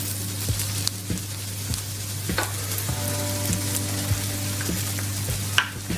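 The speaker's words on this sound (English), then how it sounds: "I love the smell of onions frying." Onions and garlic sizzle steadily in a hot pan for a curry, a continuous frying hiss broken by occasional clicks and scrapes of stirring, close and fairly loud, with no talking.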